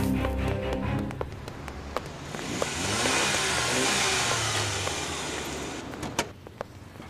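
A taxi car pulls up, its engine a faint, smooth hum that swells and settles, with a few soft knocks and clicks near the end.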